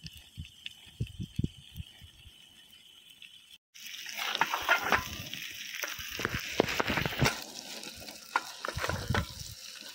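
Chicken liver fries in a pan, a busy sizzle with stirring scrapes and clinks that starts suddenly after a few quiet knocks and continues close by.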